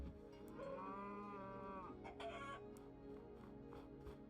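A cow in Minecraft Infdev gives one drawn-out low moo, fairly close and clear, followed by quieter game ambience with no talking.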